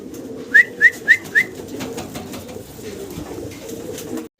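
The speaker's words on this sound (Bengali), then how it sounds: "কালারের এক পেয়ার বোম্বাই কবুতর দেখাচ্ছি আপনাদেরকে" A pair of Bombay pigeons at a farm gives a soft, low, continuous murmur of cooing, topped early on by four quick, evenly spaced whistled chirps.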